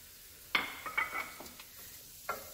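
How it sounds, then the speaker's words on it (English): Mushrooms sautéing in oil in a preheated pan, a faint sizzle with a few soft scraping stir strokes and a utensil clink, no talking. "Okay, so a little bit of oil to my preheating pan. I am going to add my mushrooms."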